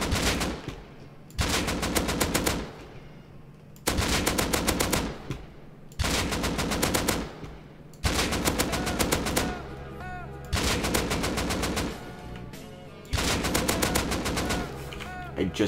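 Automatic gunfire from the video game Rust, loud bursts of rapid shots, about six separated by short pauses, with no voice over them.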